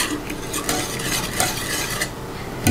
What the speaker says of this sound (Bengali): আস্তে আস্তে নাড়বেন আর মিক্স করবেন।